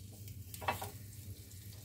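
Aloo chops are being shallow-fried in a little oil in a kadhai over a low gas flame. The oil gives a faint, soft, continuous sizzle, and a brief brighter crackle or stir comes partway through.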